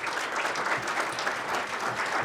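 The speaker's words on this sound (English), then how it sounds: "I think we need one more round of applause" A steady wash of audience applause at a community history event, many hands clapping together at a moderate distance with no voices on top.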